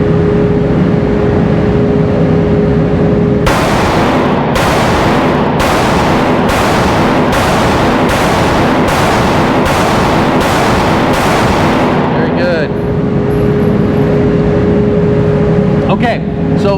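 A handgun fires about ten shots at a steady pace during a grip drill, each one a sharp blast. The shots sit over a constant loud background rumble, close by, with a quieter stretch before and after.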